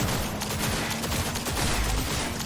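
Video game gunfire in a dense continuous barrage of shots over a loud steady background, heard during a live stream with no talking.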